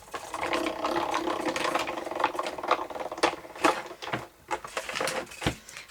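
A cutting machine slices ATG adhesive tape into a stencil, giving a steady mechanical whirring and ratcheting with quick clicks and stepping bursts, fairly close and continuous for several seconds with no talking.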